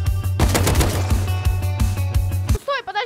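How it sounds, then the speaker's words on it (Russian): Rapid bursts of AK rifle fire from the video game Rust crack close and loud for over two seconds, followed by a brief voice at the end. "И не успел я вернуться домой, как вдруг слышу еще одни выстрелы из калаша."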